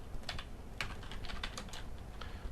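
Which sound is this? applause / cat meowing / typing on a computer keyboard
typing on a computer keyboard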